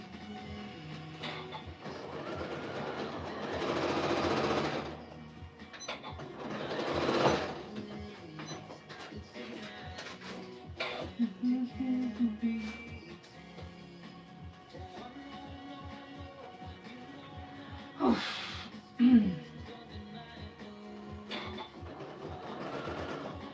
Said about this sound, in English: I'm going to sew these ends here real quick.